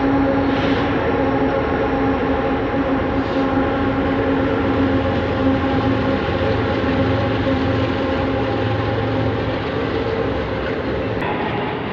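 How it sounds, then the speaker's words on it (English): A train rumbles steadily across a bridge on a wetlands trail, a continuous loud roar with faint rhythmic clatter sustained throughout, close by and without voices. "Train crossing the bridge."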